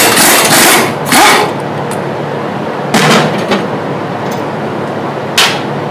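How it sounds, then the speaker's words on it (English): An impact wrench loosens brake bolts on a Jeep Wrangler during a brake job, firing several sharp, loud, close-up bursts with short quiet gaps between them. "I got it on my impact. I'm going to pop these bolts loose."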